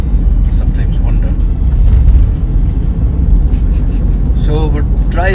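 A car drives into Torrevieja, its road rumble and engine noise loud and continuous from inside the cabin, with a voice briefly audible near the end.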